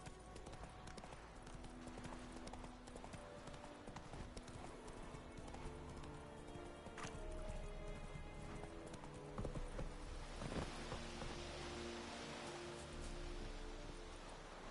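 Roach, a horse in The Witcher 3, galloping with steady rhythmic clip-clop hoofbeats throughout, loud and close, with a soft rain-like hiss in the background and no talking.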